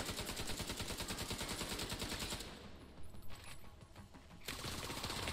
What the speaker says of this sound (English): Hostile sniper turret detected.